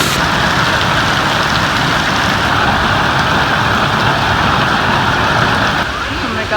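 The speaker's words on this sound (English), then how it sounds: "It is raining so hard." Heavy tropical rain pours steadily on a travel day in Thailand between Koh Tao and Koh Samui, a loud continuous broadband wash that fills the whole stretch without letup, easing slightly only at the very end.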